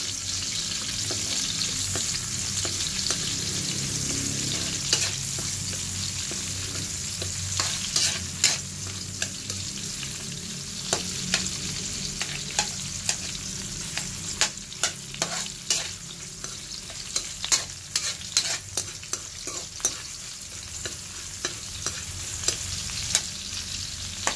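Garlic and then onion sautéing in a pan for ginisang monggo: a constant hissing sizzle with frequent sharp scrapes and clicks of a spatula stirring the pan, close up and without talk.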